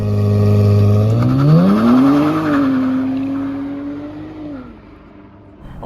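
A Nissan Z sports car launching with launch control: a loud engine roar sweeping upward in pitch as it accelerates hard, then holding high and fading slightly as the car pulls away.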